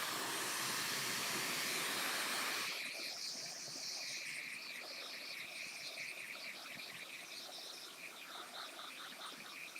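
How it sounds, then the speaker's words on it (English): A steady, loud broadband whoosh of a blow dryer runs throughout, easing slightly after a few seconds into a continuous airy hiss with a faint whine. "And blow dryer."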